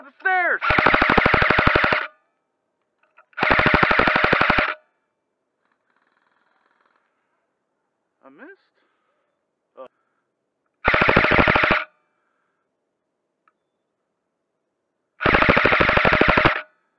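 Airsoft guns fire in four long, rapid bursts of about a second or more each during a game at a sports field, loud and close, separated by near silence with a few faint knocks.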